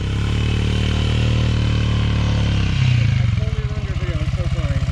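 An Exocet car with a K24 engine runs close by with a loud, steady, droning idle, then its note drops and turns into a throbbing pulse, while people talk over it.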